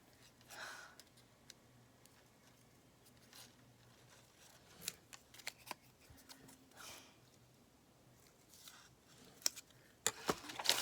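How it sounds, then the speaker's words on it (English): Scissors cutting a paper circle during card crafting, soft scattered snips and paper rustles at close range, quiet and irregular, with a few sharper crisp cuts toward the end. "I am going to cut it a little bit"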